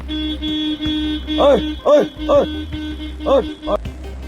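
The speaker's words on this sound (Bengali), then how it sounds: "আমি হর্ন মারে তাও উঠে না" A car horn honks several times in short separate blasts over a steady engine drone at a cow blocking a Kolkata street, with voices in the background.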